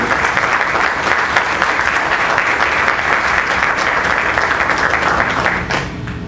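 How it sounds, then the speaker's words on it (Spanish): A seated audience at a panel discussion on open government applauds its invited guests, with steady, dense clapping that holds at an even level for several seconds before easing slightly at the end. "yo sí les pido por favor un aplauso para nuestros invitados"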